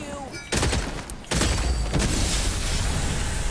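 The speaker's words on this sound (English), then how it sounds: "Oh, these grenades." Grenade explosions in The Silent Age video game, two loud broadband blasts in quick succession, each followed by a sustained rumbling roar that carries on to the end.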